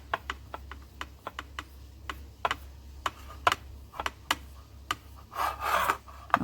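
Polymer clay pressed and smeared onto glass, giving a run of short scraping and tapping contacts at an uneven rhythm, close and quiet, with a longer rubbing smear near the end and no voices.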